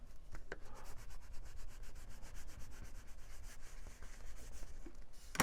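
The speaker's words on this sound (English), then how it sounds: "And we'll burnish it down." Paper is rubbed firmly down onto a scrapbook page with a burnishing tool, a close, continuous scratchy rubbing with quick repeated back-and-forth strokes.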